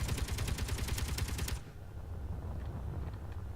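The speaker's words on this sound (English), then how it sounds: "The shooting stopped." Rapid automatic gunfire in Space Engineers, a dense loud rattle of shots that cuts off abruptly after about a second and a half, leaving a low steady hum.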